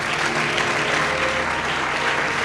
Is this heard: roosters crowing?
no